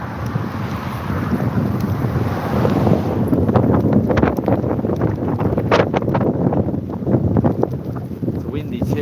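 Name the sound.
wind during a thunderstorm while biking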